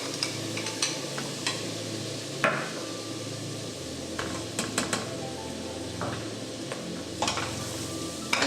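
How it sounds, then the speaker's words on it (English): Rice and mung beans being stirred in ghee in a pot, with soft frying sizzle beneath scattered scraping and knocking of a spoon against the pot, close and moderately quiet. "I'm going to stir everything to get coated"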